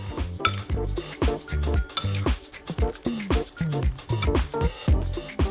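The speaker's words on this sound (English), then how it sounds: "Mix everything well and let it marinate for about 15 minutes." Beef being mixed in a bowl with sugar, oyster sauce and cooking oil for a marinade gives close, busy clinks and scrapes of a utensil against dishware, in repeated quick strokes with no talking.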